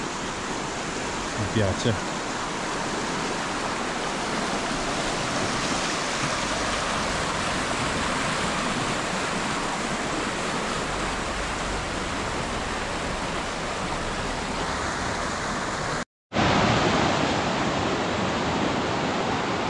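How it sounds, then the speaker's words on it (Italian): Mountain stream in Val di Rabbi flowing steadily: a broad, continuous rushing wash of water close by for nearly twenty seconds, with a brief dropout near the end and a voice speaking briefly early on. "È tutto immerso nel verde, c'è questo fiumiciattolo qua che torrente, dai."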